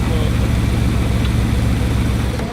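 Bugatti Veyron engine idling steadily after a rough cold start, a dense, continuous low rumble held close and loud throughout with no break in level.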